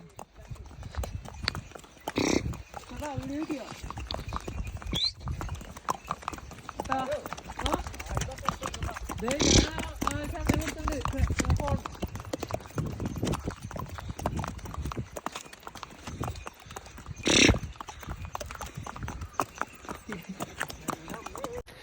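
Horse hooves clip-clop at a steady rhythm during a horseback ride among the mountains of Kashmir, close and clear, with a voice talking over the steps throughout.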